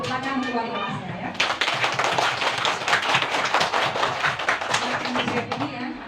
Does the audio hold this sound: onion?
no